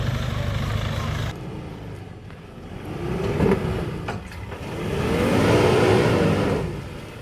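A Jeep Wrangler's engine hums steadily as the vehicle eases slowly down a rough off-road track, swelling and fading with the terrain, with a brief clunk partway through and no talking.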